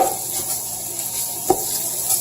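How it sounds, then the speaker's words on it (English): Spoon chopping and breaking up food in a frying pan, with a steady sizzle beneath soft scraping and one sharper tap, close up with no talking. "my spoon to do a little chopping just to make sure it's all broken up"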